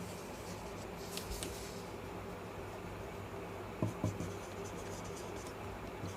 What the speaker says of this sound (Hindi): यहाँ पर मैं स्टेटमेंट लिखता हूँ